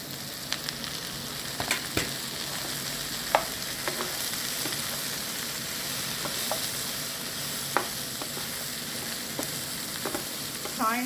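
Mushrooms and broccoli stir-frying in a pan give a steady loud sizzle, broken by scattered clicks and scrapes as the pieces are stirred, with no talking.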